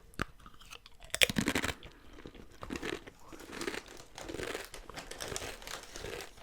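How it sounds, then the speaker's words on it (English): Crisp crunching of a crunchy potato snack being bitten and chewed, one loud first bite followed by several softer crunches nearby. "The first crunch is always the best, like, sound."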